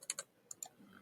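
Quiet, close keystrokes on a computer keyboard, with a handful of crisp taps in two quick bursts over about a second.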